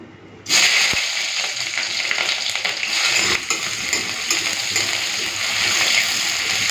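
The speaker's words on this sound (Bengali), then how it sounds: "তেল তো গরম হয়ে গেছে এখন দিয়ে দেবো পেঁয়াজ কুচি আর চেরা কাঁচা লঙ্কা" Chopped onion and slit green chilies drop into hot oil in a Bengali kitchen, setting off a sudden loud, steady sizzling hiss that continues evenly close up, with light stirring and spatter throughout.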